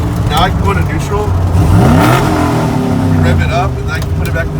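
A Chevrolet C10 truck engine revs in neutral, with a rising and falling rev sweep in the middle over a loud, constant idle rumble and speech running throughout.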